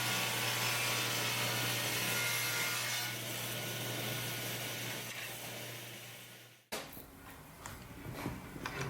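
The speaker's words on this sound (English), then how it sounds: "The next task is to cut the shelves to width." A saw rips steadily through thick wooden shelf boards cut to width, a continuous close rasping that drops out near the end, followed by lighter scraping and handling of the wood.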